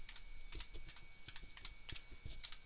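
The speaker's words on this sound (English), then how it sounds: "I'm going to type the word transform" Rapid, close keyboard typing on a computer while entering a word in a design program, a brisk run of crisp key taps at a steady pace, with no voices.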